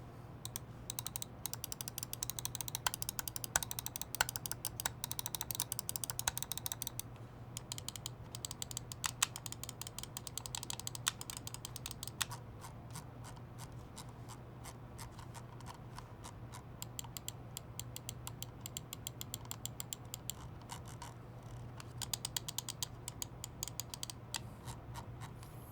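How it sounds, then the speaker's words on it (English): Aria XD7 egg-shaped gaming mouse gives quiet, close clicks in quick bursts and runs, mixed with light ratcheting scroll-wheel ticks over a faint steady hum. "Let's drop a sound test so you guys can hear what the Aria XD7 sounds like."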